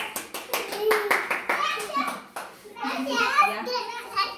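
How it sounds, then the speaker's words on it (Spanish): A group of children in a workshop claps in a burst of quick, uneven applause, close and moderately loud, followed by children's voices talking. "Muy bien, aplausos."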